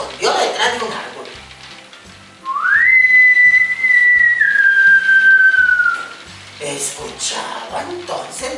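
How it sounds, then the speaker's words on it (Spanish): A single sustained whistle of a guañolú glides upward and holds a steady high tone for a few seconds before tapering off, with background noise and voices around it. "Escuchaba entonces más cerca el silbido del guañolú"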